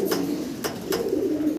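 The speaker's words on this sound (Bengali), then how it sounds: "চমৎকার এক পেয়ার টগি কবুতর আমরা দেখাচ্ছি" A pair of fancy Toggi pigeons in a cage, one red, coo in low, soft, repeated throaty tones, close by, with a few faint clicks over the steady cooing.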